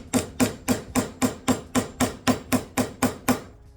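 A hammer taps steadily on a razor blade cutting the rosette of an acoustic guitar being built, about twelve evenly spaced, sharp, close strikes with no talking.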